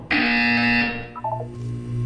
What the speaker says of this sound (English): You will hear a buzzer. When you hear the buzzer, look down at the floor.